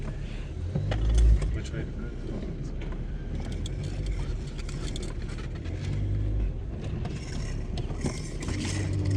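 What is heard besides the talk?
Volkswagen Golf MK2 car reversing and driving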